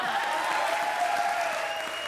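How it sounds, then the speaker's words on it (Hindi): Studio audience at a Hindi TV comedy show claps in a steady, dense wash of applause, fairly loud and continuous, with no one speaking over it. "तालियां।"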